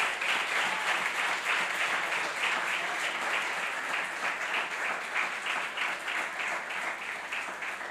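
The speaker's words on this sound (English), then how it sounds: "A round of applause for Bobby Beeman." An audience at a university awards ceremony applauds a research award winner, with continuous dense clapping that stays steady and fairly loud throughout, fading slightly toward the end.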